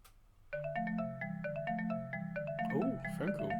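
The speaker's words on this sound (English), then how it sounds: "Oh, phone call." A phone rings in the visual novel video game I.B., a repeating electronic ringtone of short patterned tones looping steadily, with other game sounds layered over the last second.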